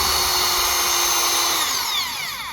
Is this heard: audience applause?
no